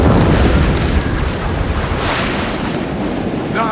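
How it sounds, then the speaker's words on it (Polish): Sea waves crash and surge against the bow of a wooden sailing ship, with wind roaring over a loud, continuous rush of water. "Fala zbliżała się już do dziobu. Drewniany kadłub zaskrzypiał przeraźliwie i okręt wdrapał się na czoło fali"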